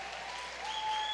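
Applause from a church congregation during a sermon, a steady wash of clapping filling the whole brief moment at moderate volume.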